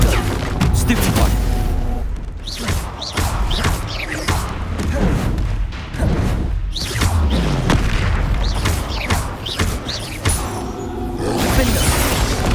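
Repeated booming spell explosions in the fantasy video game Hogwarts Legacy, loud and close, with thuds, crashes and shattering debris layered over battle noise in quick succession, with voices heard throughout.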